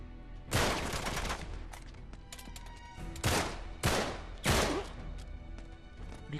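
In the video game Uncharted 3, several loud bursts of gunfire crack out: one heavy volley near the start and three more in close succession later, set over a steady background of game noise.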